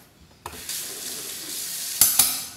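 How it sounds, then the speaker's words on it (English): Chopped flat-leafed greens rinsed under a running kitchen tap: a steady hiss of water splashing, starting with a clunk and continuing evenly, close and moderately loud, with two sharp knocks near the end. "Rinse that off."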